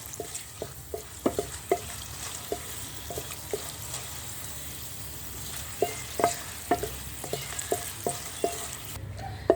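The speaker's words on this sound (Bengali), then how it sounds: "এখন আমি শুকনো মরিচগুলিকে ভেজে নেব প্রথমে একটু লাল লাল করে ভেজে নিতে হবে" Dried red chilies frying in a generous amount of oil, a steady soft sizzle broken by sharp, irregular pops and crackles, close and fairly quiet with no voices.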